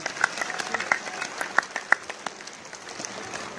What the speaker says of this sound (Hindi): एक बार जोरदार ताली आपके